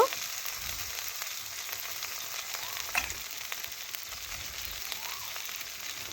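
A paste of ginger, cumin, garlic and green chilli with salt, turmeric, chilli powder and a bay leaf fries in a pan, giving a steady close sizzle with faint scraping.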